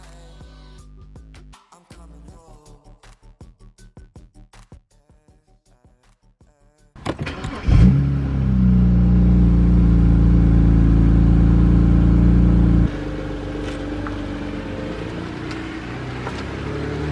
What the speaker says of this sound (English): After doing a quick drive, the engine does run pretty strong